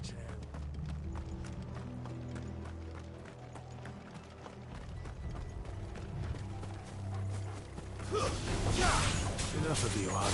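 Horse hooves clip-clopping in the video game Final Fantasy XVI, a quick rhythmic patter under battle music and game effects, swelling into a louder rush near the end.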